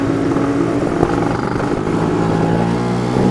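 An engine revving hard through a Casa Performance Sledgehammer exhaust, a loud, steady, raspy drone that holds close and continuous for the whole stretch with no pauses.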